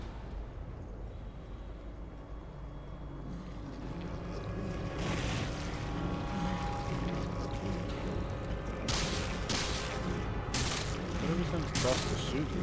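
Gunfire from the Resident Evil Revelations video game, bursts of shots rising over a rumbling, washy background, with sharper cracks clustered near the end, moderately loud.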